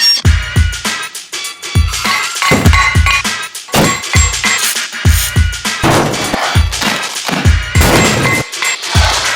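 Weight plates are smashed repeatedly against a barbell to free them where spray paint has jammed them, with loud metallic crashes and clangs in quick irregular bursts, close and alone.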